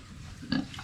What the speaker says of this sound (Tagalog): ito update ko sa ating alagang mga baboy na